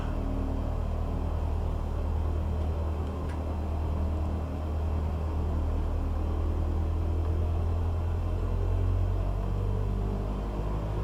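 A small airplane engine runs while the plane taxis, a steady low rumbling drone close by that stays even throughout with slight swells, no voices.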